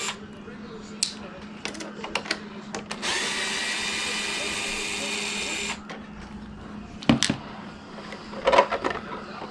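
Power screwdriver backing three screws out of the plastic fairing on an oversized RC snowmobile fitted with a Castle motor and MMX8S speed controller: a steady whirring run of a few seconds amid short clicks and handling noise, with talk around it.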